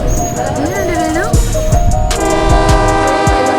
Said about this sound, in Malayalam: ഒരു കാപ്പിയൊക്കെ കുടിച്ച് സ്നാക്സ് ഒക്കെ കഴിച്ച് നമ്മളെ തൊട്ടില്ല എന്ന പോലെ ട്രെയിൻ കടന്നു പോകും